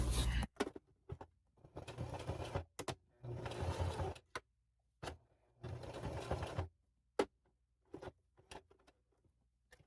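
A sewing machine stitches a tack stitch on a handbag pocket in short bursts of fast whirring, several starts and stops with sharp clicks and quiet pauses between runs.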